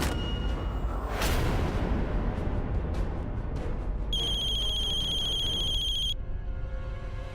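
A telephone rings in a Hindi TV serial scene: a steady electronic ringtone lasting about two seconds midway, sitting over a loud, dense dramatic background score with whooshing swells.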